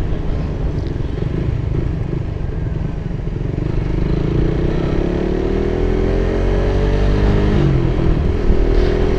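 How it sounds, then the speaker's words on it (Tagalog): A motorcycle rides along the smoother edge of a bumpy road, its engine droning steadily and close, with rising pitch as it accelerates, rattling clatter and wind rush from a chest-mounted action camera. "ang sarap dalhin ng motor pag ano"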